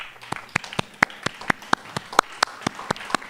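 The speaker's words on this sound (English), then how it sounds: "give you a round of applause" A small group applauds board members standing at an ashram's anniversary celebration, with sparse, individually distinct claps in an uneven patter that holds steady for a few seconds, close and moderately loud.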